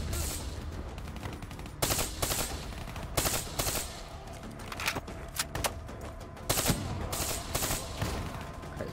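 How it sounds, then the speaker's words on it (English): Burst-fire gunfire in the Black Ops 3 campaign, sharp clusters of rapid shots repeating in short volleys at an irregular rhythm over continuous battle noise, loud and close. "it's burst fire"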